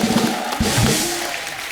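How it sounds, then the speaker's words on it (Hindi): A studio audience on a comedy talk show applauds actor Anupam Kher, a dense, loud wash of clapping that stays steady and close throughout. "अनुपम सर के लिए जोरदार ताली हो जाए।"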